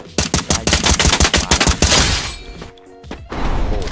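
Rapid M4 rifle gunfire in the Free Fire video game, a loud close burst of evenly spaced shots for about two seconds, then a brief lull and scattered quieter game noise with no talking.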